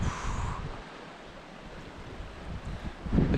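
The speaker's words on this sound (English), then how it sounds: "The water's swirling." Floodwater from a river in spate in Glen Clova, Scotland, rushing and swirling as a steady broadband roar, with gusts of wind buffeting the microphone and no voices.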